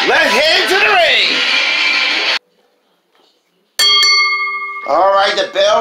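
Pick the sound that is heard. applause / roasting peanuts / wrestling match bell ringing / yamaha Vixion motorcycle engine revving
wrestling match bell ringing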